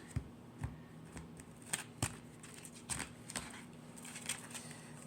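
Soft papery riffles and flicks of cards being shuffled, in short irregular bursts, close and quiet, with no voices.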